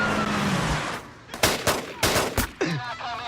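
Assault rifles fire in a film shootout against armored suspects: sharp, loud bursts of gunshots crack out in quick clusters, with a brief vocal sound near the end.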